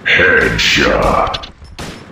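Gunfire aimed at Pyramid Head in the video game Silent Hill 2 on hard difficulty, heard as a loud close burst of shots with a booming low-end reverberation that lasts about two seconds.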